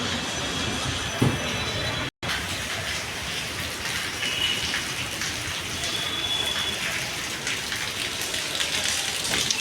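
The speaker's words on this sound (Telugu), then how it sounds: "దూరం వర్షం పడుతుంది." Rain falls at Banashankari Temple in Bangalore, a steady close hiss of drops on surfaces that breaks off for an instant and then resumes just as evenly, with no talking.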